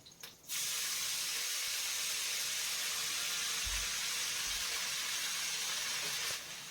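Fenugreek greens frying in a pan over a medium gas flame give a steady, loud hiss that starts abruptly and holds evenly for several seconds before stopping, with no voices.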